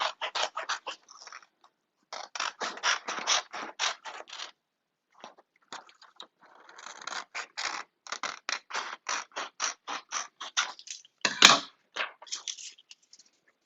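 Scissors snip away the leftover adhesive edge of a Uninet divided white toner transfer sheet in quick bursts of close crisp cuts, pausing briefly between runs; no one speaks.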